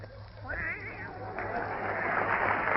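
A voice imitates two cats fighting, producing a rising, wavering yowl that builds into a sustained, harsh caterwauling screech over a steady background hum, loud and close.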